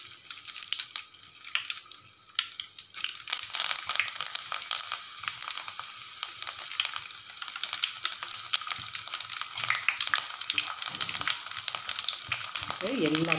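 Curry leaves crackle and splutter in hot oil, a dense, continuous sizzle with sharp pops throughout, growing busier as it goes on.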